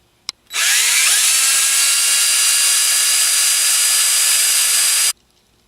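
A DeWalt 20-volt max lithium-ion cordless drill runs at steady speed for about four and a half seconds, loud and close, after a single sharp click, with no voices.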